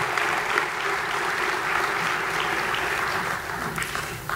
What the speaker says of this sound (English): can you please stand and so we can give them a round of applause